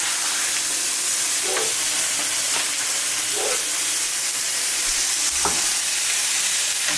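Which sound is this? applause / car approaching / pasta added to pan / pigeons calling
pasta added to pan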